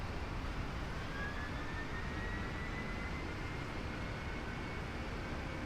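PMDG 747 with thrust reversers deployed just after touchdown at Los Angeles in a flight simulator, a loud broad roar of rushing engine noise holding steady throughout.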